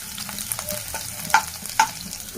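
Onion fries in a hot oil tempering for a lentil-and-drumstick-leaf dish, giving a steady moderate sizzle broken by a couple of sharper spatters, with no talk.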